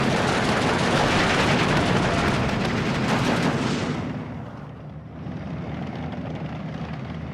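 Counter-battery artillery fire in the World War II strategy game Steel Division 2, a loud, dense barrage of rumbling blasts with a droning engine that fades halfway, leaving a quieter steady rumble, no voices.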